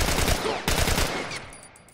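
Loud rapid bursts of gunfire in The Last of Us, one volley after another, then tapering off toward the end.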